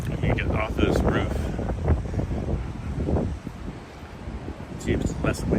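Gusty wind buffets the microphone on a rooftop in downtown Toronto, a steady loud rumble running through the whole stretch with bursts of movement and brief higher noises near the start and end.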